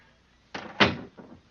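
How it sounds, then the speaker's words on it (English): Wooden door pulled shut as a radio drama sound effect: a soft creak, then a firm thud with a short rattle after it, heard alone at close range. "Please close the door behind us."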